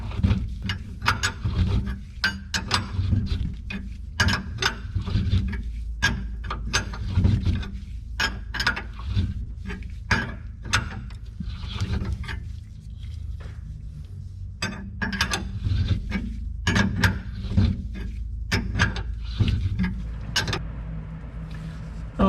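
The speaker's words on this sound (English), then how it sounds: "the reamer's all the way through, and you can see how it chipped out or cut away just a little hair, or hairs, you know, of brass" A hand reamer turns through a brass front suspension bushing on a Ferrari 330 GT, making a steady series of close, sharp ratcheting clicks and scraping metal ticks over a low background rumble.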